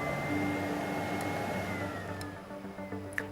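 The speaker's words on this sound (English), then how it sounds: "the fine dust filter will be cleaned automatically. You'll hear this happening." A Miele Blizzard CX1 vacuum cleaner drones with a steady motor whine that slowly dips in pitch as it runs its automatic fine dust filter cleaning, followed by a few faint clicks and taps.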